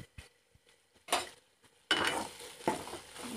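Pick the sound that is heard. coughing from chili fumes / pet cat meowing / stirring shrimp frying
stirring shrimp frying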